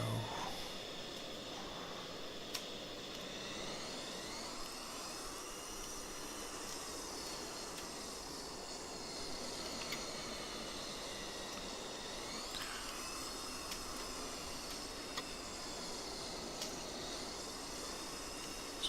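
Mirage F1 jet taxiing out of a hangar in the DCS flight simulator, its engine a steady, continuous whine and rumble with rising and falling high tones throughout, sounding alone without talk.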